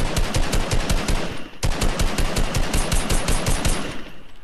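Rapid automatic gunfire in a Fortnite match, loud bursts of evenly spaced shots fired in quick succession, a brief break around a second and a half in, then another sustained stream of shots.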